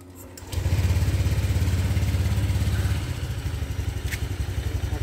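A used motorcycle engine starts with a brief crank, then settles into a loud, close, rhythmic idle that chugs steadily before easing slightly.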